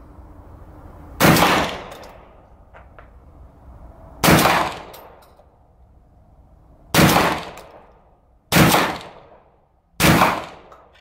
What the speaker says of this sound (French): pour essayer ce fusil, on a utilisé des slugs tacticales